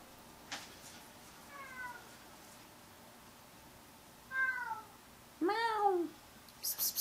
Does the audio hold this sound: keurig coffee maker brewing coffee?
no